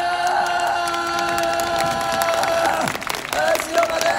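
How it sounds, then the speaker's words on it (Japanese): A theme park show audience at Universal Studios Japan claps and cheers in a rolling wave from front to back, a sustained crowd roar with music and shouting throughout. "前から後ろに向かって拍手ウェーブ開始"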